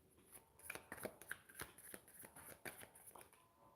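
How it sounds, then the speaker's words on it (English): Tarot cards being shuffled by hand, a quick run of crisp papery riffles and slaps in irregular bursts, close and moderately quiet, with no talking over it. "Let me give a quick shuffle."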